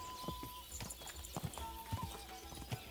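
Horse hooves clip-clop in Kingdom Come Deliverance 2, an irregular series of sharp close steps over a low background with brief faint game tones, no speech.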